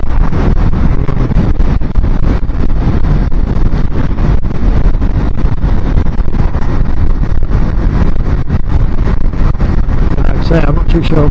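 Strong headwind on a motorcycle ride in the UK pounds the microphone with loud, continuous roaring and rumbling buffeting that never lets up and covers any other sound.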